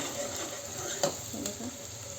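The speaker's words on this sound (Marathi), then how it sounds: "मी ह्याच्यामध्ये कांदा घालून घेतला" Onion sizzles in hot oil in a pressure cooker, a soft steady frying hiss close by with a couple of faint clinks of a spoon.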